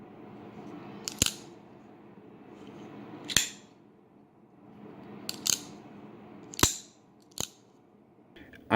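A Benchmade 560BK-1 folding knife with an axis lock is opened and closed: five crisp, snappy metallic clacks, spaced a second or two apart, close and clear over quiet room noise, with no voices.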